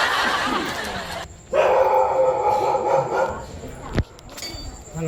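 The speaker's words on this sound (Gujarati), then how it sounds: "ભાઈ જો કૂતરા છે" Dogs bark and whine from a rooftop area in Gujarat, a sustained loud yelping howl in the middle followed by a sharp single bark, with a voice talking faintly in the background.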